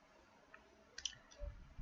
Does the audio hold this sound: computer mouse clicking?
yes